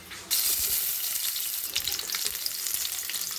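Sliced onions dropped into hot oil for a South Indian tempering with dried red chillies for bitter gourd: an abrupt loud sizzle that bursts in and then crackles and hisses steadily at close range.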